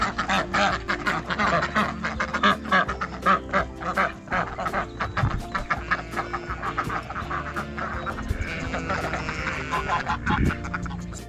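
Ducks quack repeatedly and loudly near a pond, a dense, overlapping chorus of calls close by that runs throughout with some background noise.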